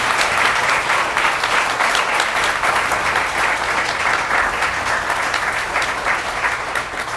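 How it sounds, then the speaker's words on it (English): A panel discussion audience gives sustained, dense, loud applause for the panelists, many hands clapping steadily without pause. "can we get one more round of applause before we get into the question?"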